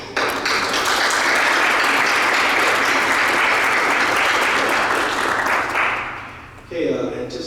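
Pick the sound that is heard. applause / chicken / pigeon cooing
applause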